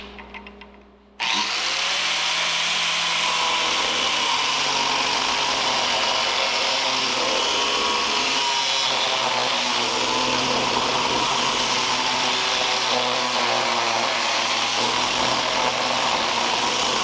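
Power tool cutting off the ends of a metal truck rack, a loud continuous grinding whine that starts abruptly and runs steadily for the whole stretch, close by.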